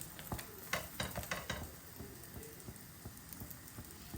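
Msemen flatbread fries in a little oil in a pan, a soft, faint sizzle with scattered crackles and a few light scraping taps near the start.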